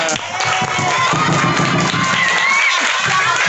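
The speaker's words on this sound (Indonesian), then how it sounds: "Oke, tepuk tangan." Children at a sixth-grade class drama clap and cheer together, a loud, continuous crowd roar with excited shouts and clapping that stays dense from start to end.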